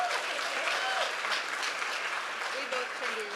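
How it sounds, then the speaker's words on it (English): An audience at a lunch keynote event claps for the winners, a moderate wash of applause running steadily throughout while a voice talks over it. "Claps for the winners."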